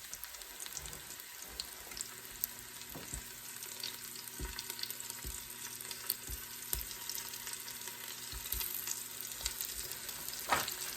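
Steak and mushroom bites sizzling and browning in an Instant Pot, a steady close frying hiss with occasional utensil taps and stirring clinks throughout.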